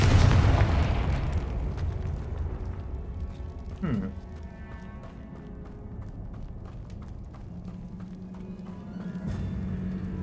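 A Confringo fire-blast spell in the wizarding game Hogwarts Legacy bursts loudly at the start, its boom fading into a rumbling tail, followed by a brief whooshing streak and lingering low ambience; a voice speaks over it.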